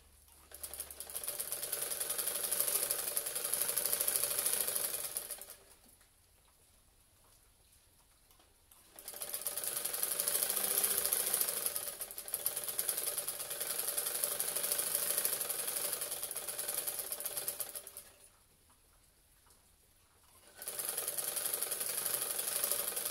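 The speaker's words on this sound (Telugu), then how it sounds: "పై కుట్టు వేస్తున్నాను చూడండి" Sewing machine running a top stitch along a neck piece: close, steady mechanical whirring in three long bursts separated by quiet pauses, no talking.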